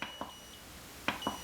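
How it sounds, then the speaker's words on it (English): Beep signals from an Advanced Electroreflex Energizer machine as it powers on: two pairs of short electronic beeps, faint and close, with quiet gaps between them and no talking. "First you turn it on and all the lights come on, then it gives you the beep signal."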